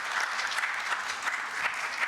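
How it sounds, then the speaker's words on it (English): Audience at a technical session on disability-inclusive disaster risk reduction applauding the panelists, a steady dense wash of many hands clapping throughout, fairly close and even. "I would request all of you to give a big applause to all the panelists"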